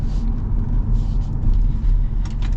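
A 2025 Ford Ranger Raptor pickup engine pulls hard under acceleration, a steady deep rumble with road noise, heard from inside the cab.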